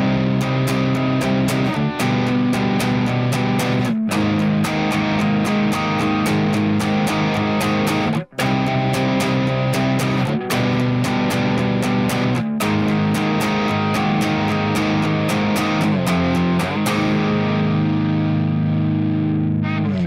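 Distorted electric guitar playing the extended ending of a song, strummed chords in a driving rhythm with sharp breaks, loud and alone before a final ringing chord.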